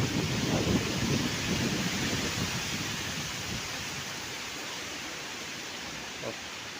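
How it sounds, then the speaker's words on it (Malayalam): A strong wind gusts across a hilly rubber plantation, a broad roaring rush that buffets the microphone, loudest at first and then easing into a steady blow. "അതാ വലിയ കാറ്റ്."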